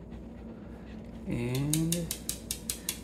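A dog works at a level 2 treat puzzle toy with steel treats, producing a series of sharp metallic clinks and rattles in quick succession, close by, after a brief vocal whine-like tone.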